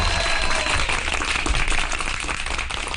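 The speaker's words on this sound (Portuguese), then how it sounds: "Palmas para Lenilson!" Applause in a radio studio during a news commentary show, a loud, close burst of clapping that runs steadily throughout, thick and slightly muffled, with no talking over it.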